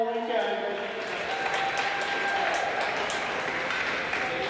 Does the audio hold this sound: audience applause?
yes